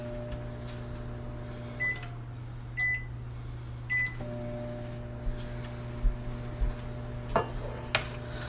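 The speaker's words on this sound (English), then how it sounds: "I'm going to throw these in the microwave for the shortest time" A microwave oven hums steadily and loudly while heating candy mixture, with a few beeps and clinks of dishes and utensils near the end.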